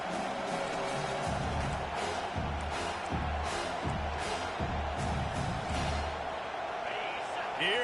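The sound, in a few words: home crowd cheering in college football video game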